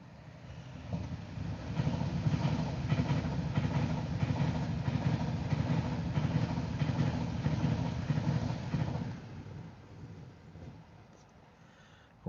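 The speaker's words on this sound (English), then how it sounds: "And here comes a Pendolino." A Pendolino tilting train rolls past very slowly, a steady low rumble with rhythmic wheel and carriage noise that holds for about nine seconds, then fades into quieter background.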